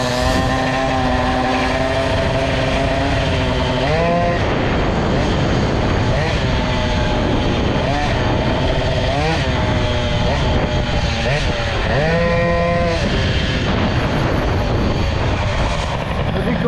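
A nearly stock Peugeot 103 moped, boosted and fitted with a Doppler exhaust, revs high and steady while riding, its variator at the end of its travel, with loud droning engine tones that rise and fall in pitch.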